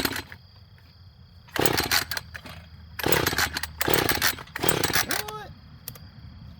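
A new, open-box Husqvarna chainsaw fires up and runs in four loud, close bursts of engine roar with idle gaps between them, and a person speaks briefly.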